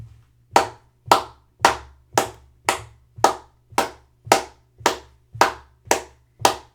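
About a dozen sharp hand claps ring out one by one at a steady marching pulse during a music lesson, each crisp and close, with a low hum underneath and no talking.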